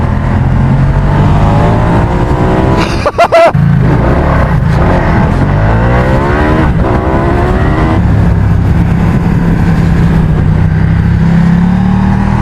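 A motorcycle with a 1260 engine is ridden at speed, giving a loud, continuous engine drone under heavy wind rush, with pitch sweeping up and down through gear changes and a brief sharp bump partway through.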